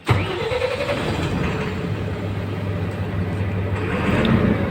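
A Tata BS6 truck engine with a recurring 0241 fault code cranks and fires up with a sharp onset, then settles into a steady, close, loud diesel idle.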